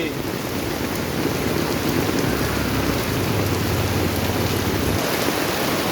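Heavy rain pours steadily and loudly, a dense constant hiss of drops hammering down, with a low rumble swelling midway.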